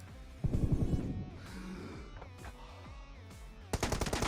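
A video game plays rapid automatic gunfire in loud bursts, with a tight rattling volley at the start, scattered shots in the middle and a sharp burst at the end.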